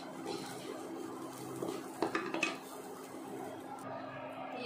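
Fried soybeans being scooped out of a frying pan into a bowl, a quiet clatter of spoon against metal and bowl with a short cluster of clinks in the middle, faint background hiss.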